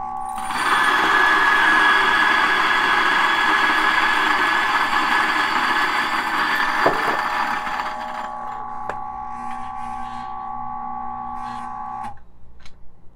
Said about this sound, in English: Grinder. Coffee going in.